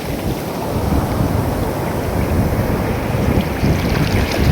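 Evening wind blows across a seashore as a loud, continuous roar of rushing air and surf. It buffets the microphone heavily, and no one speaks.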